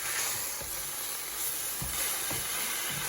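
Green tomatoes and vegetables frying in a pan for covo, a soft continuous sizzle broken by a few faint scrapes and clicks from stirring.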